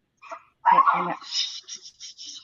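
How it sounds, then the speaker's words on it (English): Dogs give a short burst of close barking followed by several thin, high whimpers and whines, in an otherwise quiet indoor setting. "Let me get my dogs to right up here for a second."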